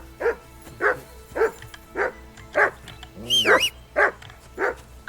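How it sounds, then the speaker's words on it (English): A dog in the video game Kingdom Come: Deliverance II barks repeatedly in a steady rhythm, eight or nine loud, close barks with one higher whining yelp partway through. "I assume you can hear that damn dog of yours barking."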